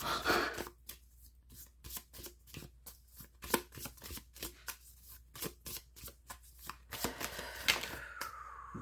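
Rapid riffling snaps of a deck of cards being shuffled, repeated in quick bursts with brief pauses between, close and crisp with no talking.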